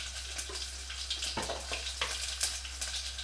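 Cumin, mustard seeds and garlic fry in hot oil in a pan, making a constant close sizzle with light crackles and spitting over a low steady hum.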